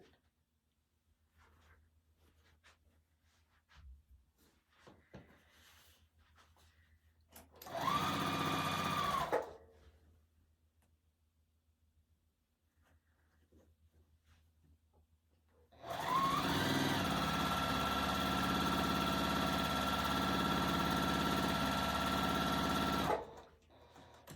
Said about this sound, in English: we'll go ahead and sew these little wings of our barn on